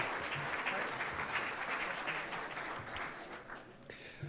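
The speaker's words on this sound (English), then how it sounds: "let's do a round of applause to Jennifer" Audience applause rises at an internet radio awards session in Orlando as the conference organizer Jennifer is thanked, a steady broad clapping from the room that thins toward the end; fairly quiet overall.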